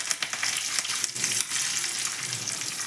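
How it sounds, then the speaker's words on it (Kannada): Mustard seeds crackling in hot oil while tempering, a close sizzle with rapid irregular pops and crackles over a steady hiss, no talking. "ನೋಡಿ ಸಾಸಿವೆ ಸಿಳಿತಾ ಇದೆ"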